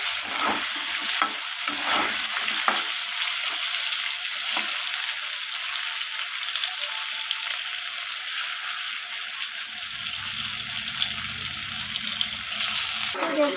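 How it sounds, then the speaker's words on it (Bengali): Pointed gourd pieces frying in oil with salt and turmeric until reddish: a continuous bright sizzle, with a few clattering stirs early on and a low background rumble joining near the end. "পটলটাকে একটু সময় নিয়ে লাল লাল করে আমি পটলটাকে ভেজে নেব"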